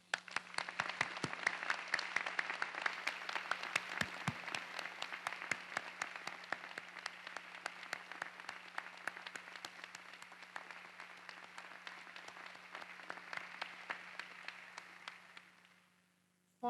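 Sustained applause from a large crowd fills a university graduation ceremony in Edinburgh, dense steady clapping lasting about fifteen seconds before fading out at the end.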